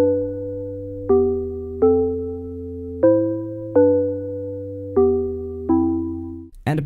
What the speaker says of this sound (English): For this project I just started out with some simple chords which sound like this.